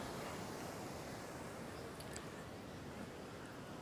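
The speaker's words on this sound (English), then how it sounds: "Right now I'm watching some amazing waves roll in." Ocean waves roll onto a crowded beach in Mexico with surfers out, a steady broad wash of surf and wind noise that stays even and constant throughout, with no talking.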